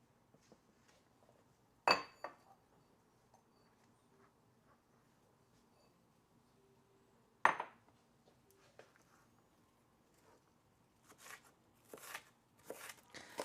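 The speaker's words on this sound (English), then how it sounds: "I'll just cut the onions a bit more." A knife cutting onions in a home kitchen: faint, sparse knocks of the blade on the board, two sharper isolated hits, then a quicker run of light chops near the end, quiet overall.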